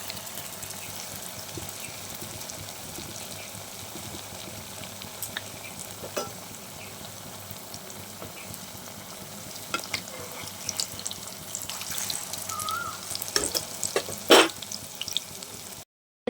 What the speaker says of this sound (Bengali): এইভাবে আমি মোচার চপগুলোকে একটা একটা করে বেসনের মধ্যে ডুবিয়ে আমি তেলের মধ্যে দেবো।